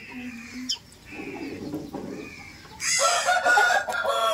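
Hens cluck softly in short bursts, then a rooster crows loudly and close by, its call stretching over the last seconds.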